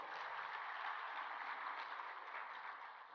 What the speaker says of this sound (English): Another round of applause for a very insightful panel.